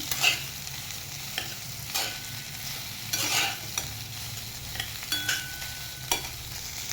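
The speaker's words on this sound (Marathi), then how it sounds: "बारीक चिरलेला बटाटा घालून घ्यायचा हेला चांगलं परतून घेऊ आपण" Finely chopped potato stir-fried in a pan, a steady sizzle broken by repeated scrapes and clinks of a spatula against the metal, close and fairly loud, with no voices.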